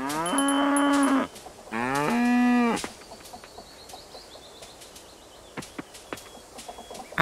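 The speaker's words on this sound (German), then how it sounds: "So, dann haben wir hier noch die Kuh." A cow in the farming game Coral Island gives two loud, drawn-out moos in quick succession, followed by quieter scattered clicks and faint farm sounds.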